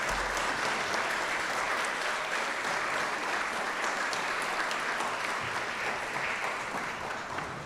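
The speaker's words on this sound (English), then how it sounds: "Give yourself a round of applause" Guests at a fellows' celebration dinner applaud mentors and supervisors, a sustained, dense round of clapping from a sizable room that holds steady and tapers only slightly at the end.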